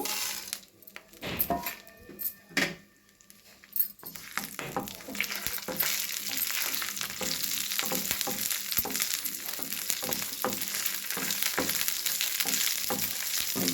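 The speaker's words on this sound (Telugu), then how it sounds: "ఆయిల్ హీట్ అయింది ఇప్పుడు మనం తాలింపు వేసుకుందాం ఒక నాలుగు వెల్లుల్లి గబ్బాలు రెండు ఎండుమిరపకాయలు కొంచెం ఆవాలు జీలకర్ర మినపప్పు" Garlic, dried red chilies, mustard seeds, cumin and urad dal drop into hot oil for a tempering, a few clinks and splashes giving way to a loud, continuous crackling sizzle with spoon scrapes.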